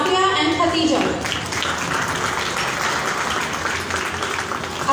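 An audience gives a big hand for two participants on stage: a wash of applause follows a loud announcer's voice at the start and continues steadily, moderately loud, to the end.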